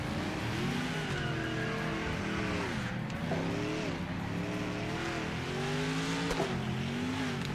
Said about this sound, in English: Just doing some panel beating on my Corvette.